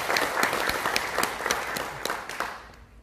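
Audience applause at a South Gyeongsang provincial citizens' roundtable appointment ceremony, a dense patter of many hands clapping with sharp individual claps standing out, steady at first and then thinning and fading toward the end.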